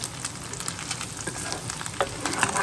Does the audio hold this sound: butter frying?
yes